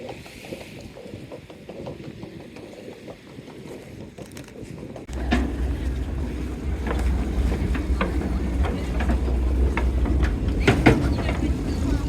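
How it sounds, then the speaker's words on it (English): Aboard a small, busy ferry crossing to Cap Ferret, a low engine rumble kicks in midway and drones on under wind and water wash, with scattered sharp clatters nearby. "Right, just heading down to the ferry."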